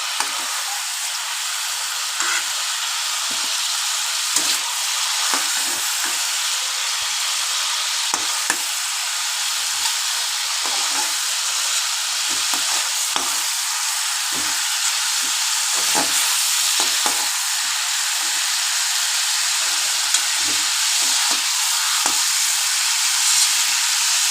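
Chicken pieces for a Bengali chicken curry fry in oil with a dense, steady sizzle and hiss, crackling in frequent small bursts throughout. The sound is close and continuous, with no talking.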